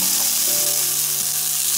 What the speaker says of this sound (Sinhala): දැන් මම මේ වෙලාවේ භාජනයක් ලිපේ තියාගන්නවා. භාජනේ රත් වුණාට පස්සේ ඒ භාජනයට මම එකතු කරගන්නවා මේ